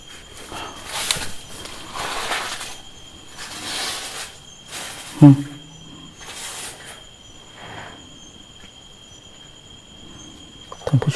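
Faint dragging footsteps scrape outside a mountain pavilion at night, a few soft shuffles spread over quiet background with insect-like hiss and a brief louder knock midway.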